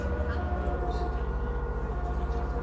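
An ambulance siren in the Bus Simulator 16 driving game wails steadily and loudly over a low, continuous engine drone for the whole stretch, with no break in the tone.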